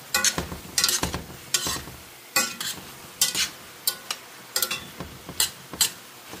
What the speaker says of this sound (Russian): Грибы пережариваются, да?